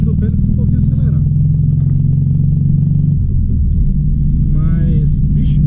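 A VW Beetle with freshly cleaned dual carburetors idling nearby, its engine rumbling steadily and a little fast, then easing lower, while someone talks over it.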